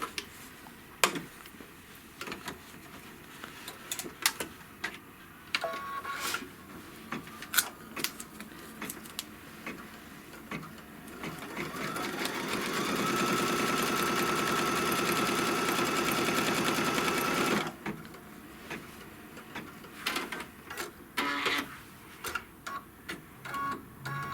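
An embroidery machine stitches the final seam of a project, first with scattered clicks and taps, then a steady buzzing run of rapid stitching for several seconds before quieter clicking resumes.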